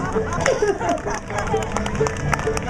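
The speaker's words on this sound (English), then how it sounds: "Let's give him a big round of applause" An outdoor fair audience at a bear show claps for Bruno the bear, with quick scattered claps over crowd chatter and a voice talking through the applause.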